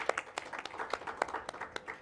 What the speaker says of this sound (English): Let us applaud Professor George Okello Abungu.